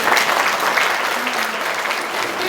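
Audience applauding at an Aybenaran alphabet-primer celebration where children perform on stage: dense, steady clapping from a large crowd, loud and continuous throughout.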